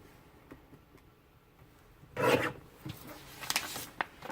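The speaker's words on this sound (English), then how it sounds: "line those up with your trimmer blade and cut all the way around the perimeter" A paper trimmer blade slicing through card, heard as a short rasping scrape followed by several quick, close rubbing strokes in a quiet room.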